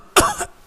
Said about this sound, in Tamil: இருமல் வந்துட்டுது.